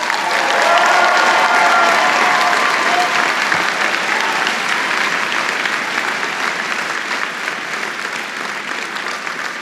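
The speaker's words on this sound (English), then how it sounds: "Another round of applause, please." An audience at a law school graduation ceremony breaks into loud, sustained applause that fills the hall, a dense wash of clapping that slowly tapers off without fully stopping.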